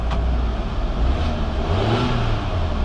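A faulty car engine runs close by and revs up and down, a loud, rough mid-pitched drone that swells and dips over a few seconds.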